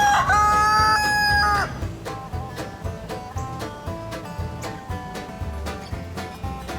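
A single loud, close rooster crow rings out at the start, bright and drawn out, then gives way to quieter tonal, musical sounds for the rest.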